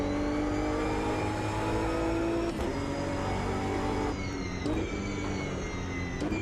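A race car engine drones steadily at high revs on track in Automobilista 2, loud and sustained, with brief gear-shift dips and rising pitch as it pulls away, no speech.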